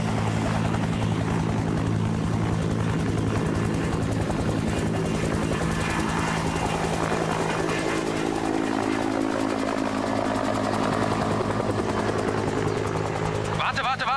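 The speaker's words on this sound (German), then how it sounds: "Das ist ein Hubschrauber und keine Straßenbahn." A helicopter drones loudly and steadily throughout, its engine and rotor hum continuous and close, with people talking over it.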